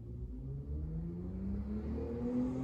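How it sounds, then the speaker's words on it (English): A loud car passes outside with a steady engine roar and rising whine that builds as it goes by, heard alone without any talk. "a loud ass car just went by"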